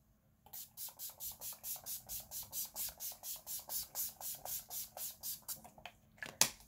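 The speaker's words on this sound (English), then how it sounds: "You gotta spray the whole face." A setting spray bottle mists in a long rapid series of soft, even hissing pumps onto a face, close by and quiet, ending with a faint click.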